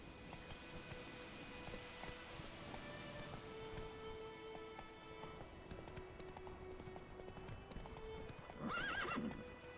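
Hooves of Roach, Geralt's horse in The Witcher 3, clip-clop in a steady, close galloping rhythm over game music, ending with a loud whinny near the finish.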